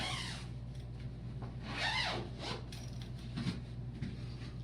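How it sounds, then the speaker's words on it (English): Long front zippers on clothing are pulled closed, a couple of raspy zipping strokes close by over a steady background hum, without talking. "zip them back up"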